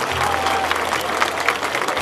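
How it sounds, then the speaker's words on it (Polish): Steady applause from an audience at an outdoor village rooftop concert, dense and continuous clapping at moderate distance with a low hum underneath. "wielkie brawa dla"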